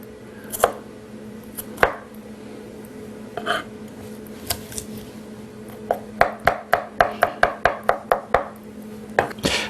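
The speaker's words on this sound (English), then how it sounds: "The easiest way with the garlic is just to chop it a little bit." A knife chops garlic on a cutting board, first a few scattered cuts, then a quick run of steady, crisp taps close up, with no talking.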